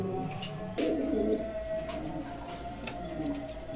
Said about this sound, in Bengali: দেখেন দর্শক, একজোড়া শিয়ালকুটি কবুতর দিলাম, পাকিস্তানি টেডি